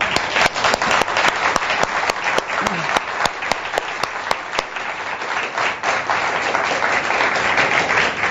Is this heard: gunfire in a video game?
no